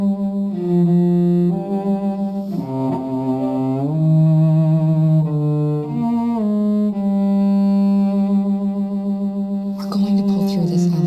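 Kara's theme from Detroit Become Human: a sustained orchestral two-note motif with rich harmonic tones gliding between pitches, steady and fairly loud throughout with no voices.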